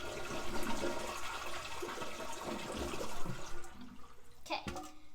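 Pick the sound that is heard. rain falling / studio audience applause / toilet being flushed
toilet being flushed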